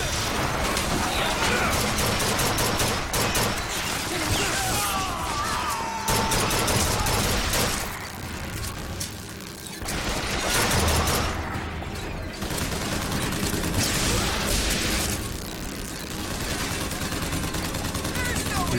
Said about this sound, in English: You're shooting the wall, George.